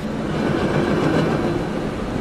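A tram rolls by in the driving game Convoy, producing a loud, close, continuous rail rumble with clattering wheels that swells and eases slightly, with no talking.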